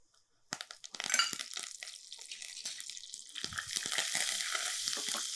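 Cumin seeds, mustard seeds and curry leaves hit hot oil and burst into loud spluttering crackles. The sizzle settles into a dense, steady frying hiss, close to the listener.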